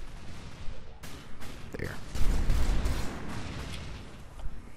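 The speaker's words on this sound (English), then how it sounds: "I'm being shot at." Gunfire and impacts in the online shooter game Loadout, a dense run of bursts and crackling shots of varying loudness, with a brief voice over the action.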